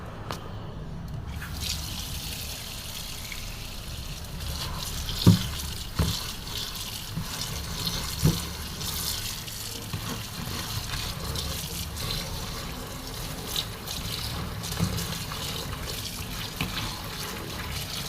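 Food from Malaysia rinsed under a running kitchen tap, a steady rush of water with occasional splashes and clinks in the sink, continuous and close.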